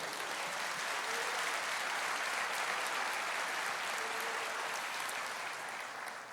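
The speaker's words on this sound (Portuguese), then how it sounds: "você pode aplaudir o Senhor" A church congregation applauds steadily throughout, a dense, sustained wash of clapping at even loudness from start to finish, with no voices rising above it.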